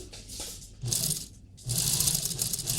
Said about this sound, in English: I'm just going to sew along with a 1 centimeter seam allowance all the way around that baby